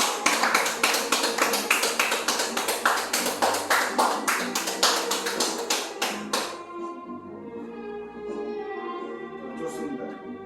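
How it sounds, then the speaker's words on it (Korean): An audience at a Korean gathering applauds a chairman, steady rhythmic clapping that is loud and dense at first and then fades into scattered claps under a murmur of voices. "우리 총재님 박수 주세요."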